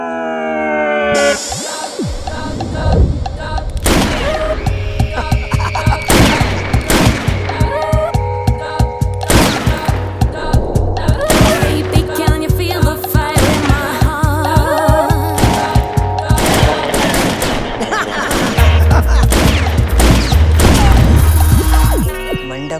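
Gunfire in a Hindi-dubbed 2024 action movie, loud repeated shots and impacts packed densely throughout, mixed with a driving music score and crashing effects.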